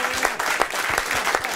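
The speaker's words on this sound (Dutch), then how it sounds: "Nou, kom op, applaus!" A studio audience breaks into applause, rhythmic clapping that rises in regular bursts, moderately close and steady over a short stretch.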